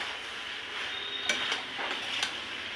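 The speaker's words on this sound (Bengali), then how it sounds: "মশলা দিয়ে এটা আমি কষাতে থাকছি" Spices stir-fried in a pan for a squash curry, a soft steady sizzle under a few sharp scraping strokes of a spatula, close up and fairly quiet, with no voices.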